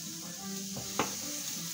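A lamb shank sears on a thick bed of salt in a pot, a steady close sizzle and crackle with a single sharp contact sound partway through.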